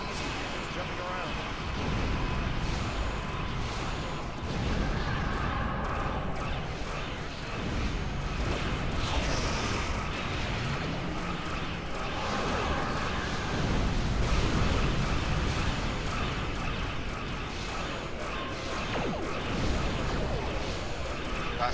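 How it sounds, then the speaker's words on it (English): An enemy ship's crescent wave cannon fires in the space game Star Trek Online, rumbling blasts and crashing impacts rolling continuously under a player's talk. "That's its crescent wave cannon"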